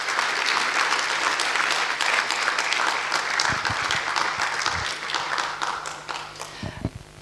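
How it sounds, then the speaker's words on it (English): An audience at a law school alumni homecoming and anniversary event gives a sustained round of applause, dense and loud, fading toward the end with a few scattered final claps. "Can we give the Dean a good round of applause?"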